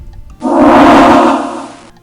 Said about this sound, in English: This is the sound of the magic projectile attack.